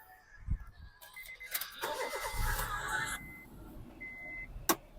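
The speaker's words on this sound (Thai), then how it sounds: "รถสตาร์ททีเดียวติดนะครับ" A 2013 Honda City engine cranks and catches on the first try, then settles into a low idle; a sharp click follows near the end. Close, no voices.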